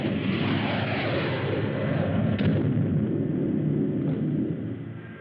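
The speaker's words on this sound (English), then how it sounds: "That's heavy stuff they're throwing, Rocky." Heavy weapons fire and explosions in a 1954 science-fiction film, a dense continuous roar of booming blasts that holds steady for several seconds and then eases slightly, loud and close with no talk.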